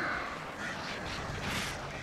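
Crows cawing in the video game Alan Wake, a dense, continuous wash of harsh calls and flapping noise at steady loudness with no gaps.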